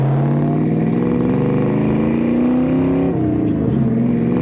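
A 1965 Chevrolet El Camino engine drones loudly from inside the cab on a test drive, its pitch rising steadily under acceleration, then dropping briefly at a gear change before climbing again.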